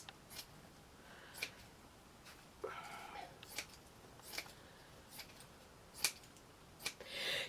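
Scissors snip out fabric pieces for a handmade miniature settee, with quiet, close, evenly spaced single cuts separated by short pauses.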